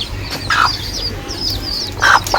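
A chicken brought home from a grandmother's house clucks in short, sharp bursts close by, with a few separate calls spread over a couple of seconds against quiet background hiss.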